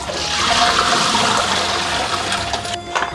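Running water rinsing a pork knuckle for braising with abalone in a kitchen, a steady loud splashing stream that continues throughout, briefly dipping near the end.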